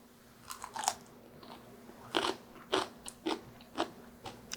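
Crunchy pickled chili peppers (gochuji), aged two years, are bitten and chewed up close, with a run of crisp, irregular crunches over a low steady hum.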